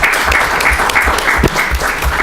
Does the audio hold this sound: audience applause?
yes